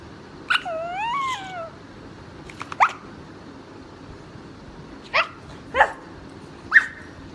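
A dog gives a whining, wavering yelp followed by several short, sharp barks spaced about a second apart, close by, against a quiet background.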